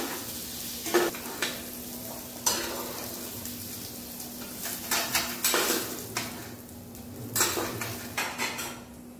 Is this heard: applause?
no